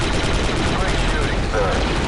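Blaster gunfire from the Star Wars Republic Commando video game, a dense, unbroken barrage of shots that stays loud and steady throughout.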